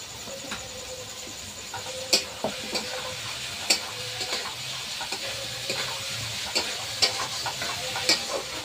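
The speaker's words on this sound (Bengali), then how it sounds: "একটু হালকা হালকা ভেজে নেব" Tomato fried lightly in oil with spices and bay leaf, giving a steady close sizzle with sharp ticks and spatula taps scattered through it and no talking.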